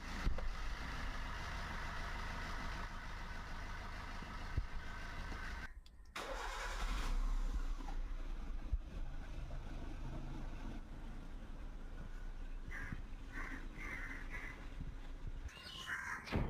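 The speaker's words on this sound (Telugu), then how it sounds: "మీకు నేను ఎగ్జాంపుల్గా రెండు వెహికల్ స్టార్ట్ చేసి చూపిస్తాను" Two cars are started one after the other for a diesel versus petrol comparison, one engine catching around the six-second mark and idling steadily nearby while crows caw faintly in the background.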